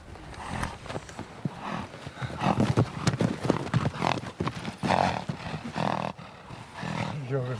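Horses of steppe warriors: a busy mix of galloping hooves and snorting, with neighs and roaring calls rising and falling over the scene, loud and close.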